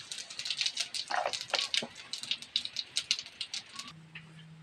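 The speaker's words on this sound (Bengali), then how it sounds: "তেলের মধ্যে শুকনো লঙ্কা দিয়ে দিলাম একটা একটা তেজপাতা দিয়ে দিলাম" Dry red chillies, bay leaf, clove, cardamom, cinnamon and cumin fry in hot oil with rapid, close crackling and sputtering pops, busy and irregular, then settle into a quieter sizzle near the end.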